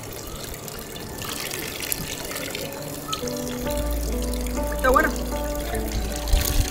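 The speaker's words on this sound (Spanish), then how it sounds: "La gente aquí llena su botella con agua totalmente limpia, se podría decir." Water pouring from a public drinking fountain in Vatican City into a bottle, a steady close splash and trickle under street ambience, with a person speaking briefly.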